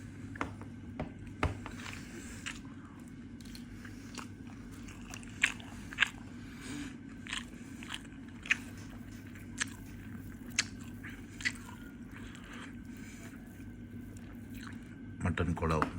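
Mutton kola balls from a Dindigul Thalappakatti restaurant iftar box being bitten and chewed, with soft, irregular crunchy bites and mouth sounds over a steady low room hum across a quiet indoor setting.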